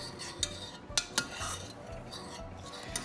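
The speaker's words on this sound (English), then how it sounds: "Just stir it." Chocolate pudding stirred in a pot, quiet scraping with a few sharp spoon clinks against the metal at an uneven rhythm.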